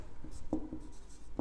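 Quick marker or chalk strokes on a board while a physics problem is worked through, a few short scratchy squeaks close by over a faint room background.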